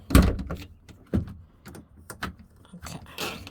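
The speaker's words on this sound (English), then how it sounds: "We're gonna close the door back." An RV door swung shut with a loud thump near the start, followed by further knocks and rattles as the door is worked and checked, with quieter handling clatter through the rest.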